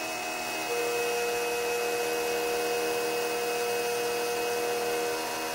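An NSK NR-40 ATC spindle motor runs steadily while cutting, a loud continuous high whine with stable tones and broadband cutting noise, unchanging throughout.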